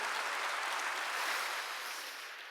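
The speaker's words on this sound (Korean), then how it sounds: "하나님께 박수해." Applause from a church congregation during a worship service, a steady broad wash of clapping that fades slightly toward the end, with no talk over it.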